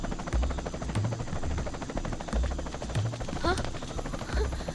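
A helicopter passes over a forest with a loud, pulsing rotor thump beating steadily throughout, dominating the scene under faint background sound.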